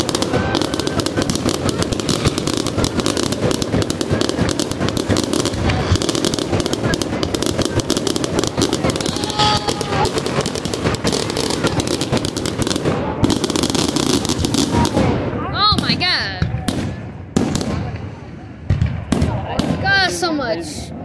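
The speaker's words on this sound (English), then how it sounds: "That's some illegal fireworks right there." Illegal fireworks at a Fourth of July show pop and crackle in dense rapid bursts near the listener, with louder separate bangs and whistles toward the end, while voices talk over them.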